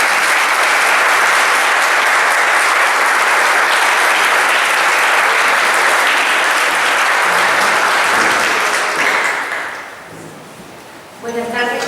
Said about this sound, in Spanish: Con un fuerte aplauso le damos la bienvenida a la escritora Alicia Luna